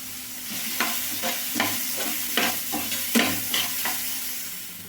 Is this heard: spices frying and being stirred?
yes